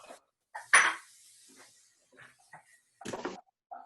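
About a pound of shrimp tipped into a pot for brunch cooking, a few scattered clinks and a louder clattering drop near the start, then a second burst of rattling, with quiet gaps between.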